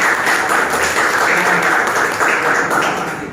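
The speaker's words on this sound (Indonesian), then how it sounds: "Kita berikan tepuk tangan untuk Rema." Audience of schoolchildren and teachers at a coaching session claps for a student named Rema, a steady dense patter of hands at close range lasting a few seconds.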